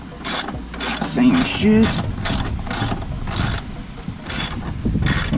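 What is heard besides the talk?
screwing in a bolt on a Honda CRX control arm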